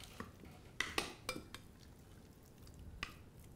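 Chicken tikka pieces are mixed into a thick yogurt marinade in a bowl, giving a few quiet clinks and knocks of a spoon against the dish followed by soft wet stirring.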